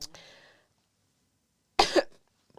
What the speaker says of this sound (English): I got that cough that makes you cry in the corner of your eye